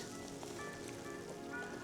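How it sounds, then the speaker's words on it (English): Steady rain falling outdoors at a fishing bank, a dense continuous patter with no pauses, fairly loud and close. "she's raining pretty decent right now"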